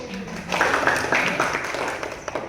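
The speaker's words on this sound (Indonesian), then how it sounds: "Oke, tepuk tangan dulu." A classroom of students applauds during a microteaching science lesson on Indonesian biodiversity: a brief burst of many hands clapping, moderately loud and close, rising after a short pause and fading slowly over a couple of seconds.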